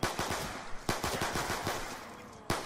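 Rapid gunfire in a first-person zombie shooter video game, a fast run of sharp close shots followed by a pause and one more burst, loud and dense with no talking.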